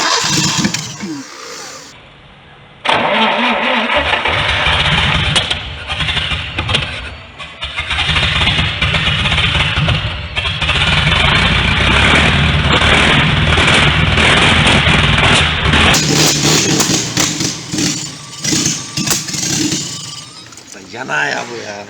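An Anadolu car engine, out of the vehicle and sitting on the ground, cranks and catches after about three seconds, then runs loud and close for the rest, with people talking over it.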